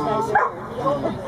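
Dog barking at a small-town dog parade in Hudson, Ohio, a few short yips and barks close by, mixed with people talking.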